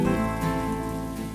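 Rain falls steadily on a surface outdoors, a dense continuous patter that stays loud and even throughout with no voices over it.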